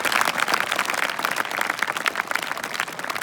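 A live audience at a Hindi talk on road safety claps in dense, continuous applause that stays loud and even throughout, with no voice over it.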